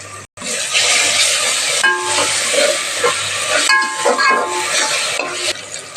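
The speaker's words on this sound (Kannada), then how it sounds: "ಬೇಗ ಫ್ರೈ ಆಗುತ್ತೆ ಈರುಳ್ಳಿ." Onions frying in a pan with salt for egg biryani, a steady loud sizzle with occasional stirring scrapes, close and continuous.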